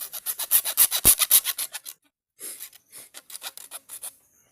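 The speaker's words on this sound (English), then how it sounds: "Then we cut off the excess. Let's cut off the excess." Excess conduit pipe is cut off by hand with steady back-and-forth rasping strokes, close and clear. A quick run of strokes pauses briefly, then the sawing resumes in a slower, lighter series.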